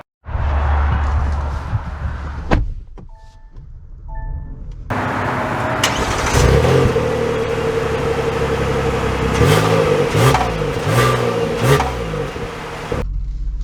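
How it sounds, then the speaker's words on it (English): A 2023 Kia Telluride SUV pulls away and accelerates, its engine rising into a steady, loud drone with tire and road noise after a brief start-up and a few quieter moments. "So setting off in the Telluride first"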